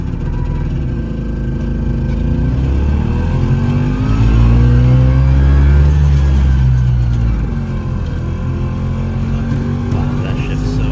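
A 1954 Fuldamobil NWF 200 microcar pulls away in first gear, its small engine rising in a steady, close drone that swells mid-clip and then eases, with talk in the car over it.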